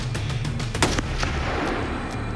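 Rifle shots ring out at outdoor Arctic shooting practice for polar bear defence: a rapid series of sharp cracks, several close together, over a constant noisy wind-like background, with no talk.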